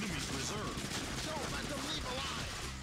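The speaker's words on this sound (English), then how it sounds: "They're shooting at us." Rapid bursts of automatic gunfire from the arcade shooter Ghost Squad crackle continuously, loud and overlapping, with game voices and sound effects mixed in.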